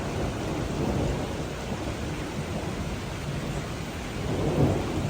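Heavy rain pours steadily while deep thunder rumbles continuously underneath, swelling louder near the end.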